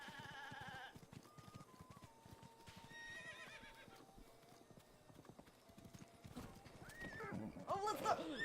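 Steady hoof clip-clops and a horse's whinny in The Legend of Zelda: Breath of the Wild play over a constant rumble, with a person talking throughout.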